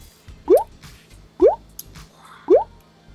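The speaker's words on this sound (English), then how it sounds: "Now, let's put a few drops of food coloring." Drops of food coloring falling onto milk on a plate, three distinct wet drip plops evenly spaced about a second apart, close and clear against near silence.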